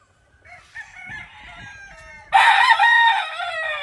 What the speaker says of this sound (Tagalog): puro mga manok lahat yan.